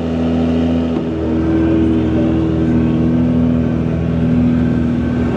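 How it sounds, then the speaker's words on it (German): Engine of a Dacia Sandrider Dakar rally car running at high revs, a loud, steady droning roar held close for several seconds with slight swells in pitch. "Hier das Auto, wo Dirk von Zitzewitz als Beifahrer agiert."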